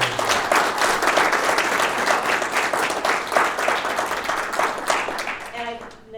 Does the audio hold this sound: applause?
yes